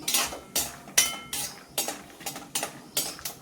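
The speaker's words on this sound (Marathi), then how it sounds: "आता मी त्याच्यातच काजू पण भाजून घेते" Cashews roasting in oil in a kadhai, stirred with a metal spatula: about eight evenly spaced, close scrapes and clinks against the pan over a faint low sizzle, with no speech.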